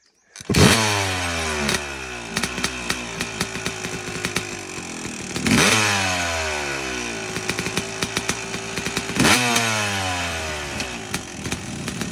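An enduro motorcycle engine revs hard three times in a row. Each burst climbs sharply in pitch and settles into a loud, raspy, sustained roar close by, with no talking.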